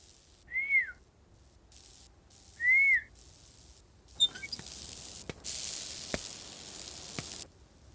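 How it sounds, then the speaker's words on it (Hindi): A person whistles to get someone's attention: two short, clear rising-then-falling whistles a couple of seconds apart, followed by faint rustling and soft clicks. "कब से सीटी बजा रहा हूँ, देख क्यों नहीं रही हो?"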